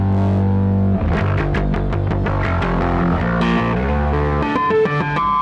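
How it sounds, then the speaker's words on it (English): Heavy distorted bass guitar notes through an EBS Billy Sheehan Signature Drive pedal ring out, a gritty overdriven tone layered with a cleaner, deep low end, playing a slow riff. "you get with the distortion, but now you have the low end"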